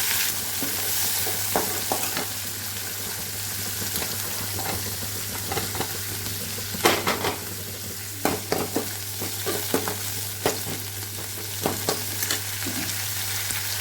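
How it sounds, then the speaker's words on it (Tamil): Green chili, onion, curry leaves and coriander fry in hot oil for a sambar meal, a constant close sizzle broken by repeated scraping stirs and clacks of a spoon against the pan, with no voices. "ஒரு மிளகாய் போட்டுக்கலாம் வெங்காயம் போட்டுக்கலாம் கறிவேப்பிலை கொத்தமல்லி போட்டுக்கலாம்"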